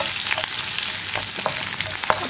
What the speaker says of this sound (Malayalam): രണ്ട് തണ്ട് കറിവേപ്പില ഇത്രയും ചേർത്തിട്ട് ഒന്ന് വഴിച്ച് ഉള്ളിയുടെ കളറൊക്കെ മാറി വരുന്നത് വരെ ഇളക്കി കൊടുക്കുക